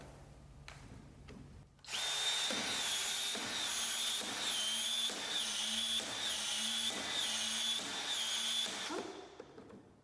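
Uponor expansion tool expanding the inside of a PEX pipe end for a plumbing fitting: a loud, steady mechanical whine with repeated rhythmic clunks at regular intervals, starting abruptly after a brief quiet and stopping near the end.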